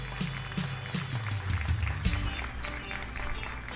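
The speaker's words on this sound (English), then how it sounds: "Well, thank you for the applause," Studio audience applause at the opening of a talk show, a dense wash of clapping that swells and fades over a few seconds, with no speech over it.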